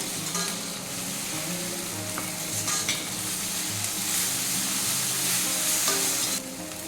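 Ground chilli, coriander and cumin pastes hit hot oil in a pan for an egg curry, giving a loud, continuous sizzle with occasional stirring scrapes and no voices.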